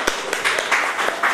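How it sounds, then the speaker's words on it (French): A gathering of women in France marking 8 March gives a short burst of hand clapping, with fairly close, rhythmic claps rising and falling over about a second. "On vous applaudit."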